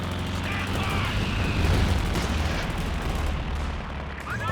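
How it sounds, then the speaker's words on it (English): Dense, continuous battlefield gunfire in Company of Heroes 2, a 2v2 match, with sustained rattling bursts and rumbling explosions layered at steady loudness throughout, machine-gun fire mixed into the din. "Machine gun gonna hold."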